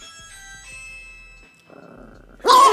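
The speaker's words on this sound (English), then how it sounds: "the ring one is the doorbell one" A doorbell tone is played twice, each a short ring, followed by a loud, sharp bird squawk from a pet called Nabi near the end.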